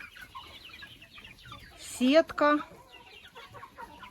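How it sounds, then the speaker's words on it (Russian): Chicks and poultry in an enclosure at a dacha give a couple of short, loud clucking calls nearby, while a person speaks softly around them. "Ну и заодно переселила цыплят."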